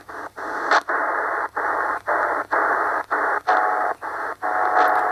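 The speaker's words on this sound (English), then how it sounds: "So like that would be like possibly a Morse code signal" A possible Morse code signal tuned in on an XH DATA D-808 shortwave radio comes through as a hissing band of static keyed on and off in a steady series of long and short pulses with short gaps between them, and no speech.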